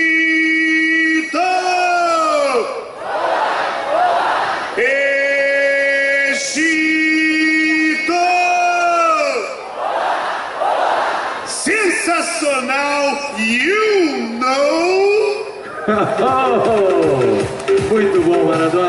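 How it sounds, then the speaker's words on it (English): A beach volleyball crowd at Copacabana sings the Egypt fans' official chant, loud sustained voices rising and falling in long sung phrases, echoing in the open air, with a lead voice and cheering and yelling toward the end. "vamos cantar a música oficial da torcida do Egito. A galera de Copacabana inteira vai comigo"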